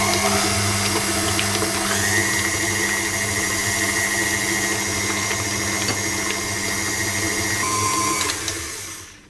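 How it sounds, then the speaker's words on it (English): Steady whirring drone of an electric mixer blending cookie dough ingredients for soft spicy molasses cookies with chocolate, loud and continuous with a constant motor hum that winds down at the end. "I'm going to mix those together."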